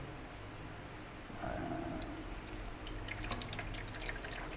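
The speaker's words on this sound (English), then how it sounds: "So I am going to put the water in first, then the fertilizer" Water pours into the reservoir of an AeroGarden Sprout indoor garden, starting after a brief quiet moment and continuing as a steady, close splashing stream with no talk.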